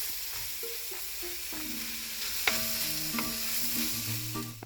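Tomato with mint and curry leaves sizzles in a pan, a steady close frying hiss with occasional stirring scrapes, while soft tonal music plays underneath.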